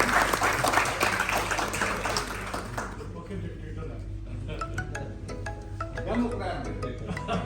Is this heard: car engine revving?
no